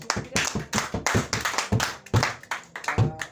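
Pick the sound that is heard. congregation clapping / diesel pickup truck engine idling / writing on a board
congregation clapping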